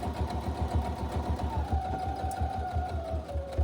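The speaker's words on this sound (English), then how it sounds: "I sew again with 1/8 of an inch seam to start with, back stitching at the beginning" A sewing machine runs steadily and close, stitching a narrow seam on a small drawstring gift bag, with a fast even mechanical chatter and a faint motor whine throughout.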